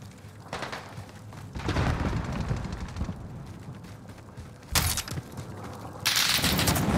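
Gunfire in the online shooter game Warzone, played as a quads match at Fortune's Keep, with bursts of shots and heavy thumps recurring through the clip, loudest near the end, over a steady game-sound bed.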